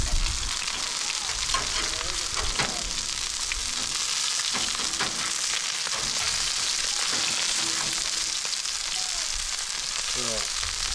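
Iberico pork frying in oil in a pan, a loud, continuous close sizzle with faint scraping and a few brief tonal squeaks, no talking.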